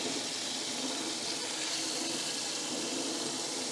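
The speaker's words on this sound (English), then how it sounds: "So once I get some water down here in the bilge" Water runs steadily into the bilge of a 1976 Starcraft boat, a constant close splashing gush that stays even throughout with no talk.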